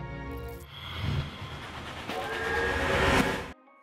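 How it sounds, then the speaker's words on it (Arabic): A train sound effect: a long whistle chord blows over the rumble of rolling rail cars, swelling louder before cutting off abruptly. "قطار شبح سانت لويس."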